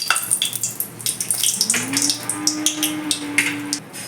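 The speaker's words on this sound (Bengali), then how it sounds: "গ্যাসে কড়াই বসিয়ে দু তিন চামচ মতো সর্ষের তেল দিয়ে দিয়েছি তেলটা গরম হয়ে গেছে প্রথমে একটা শুকনো লঙ্কা ফোড়ন দিয়ে দিচ্ছি" A dried red chili sizzles in hot mustard oil in a wok over a gas flame, giving close, loud crackles and pops in a busy irregular stream, with a faint steady tone underneath.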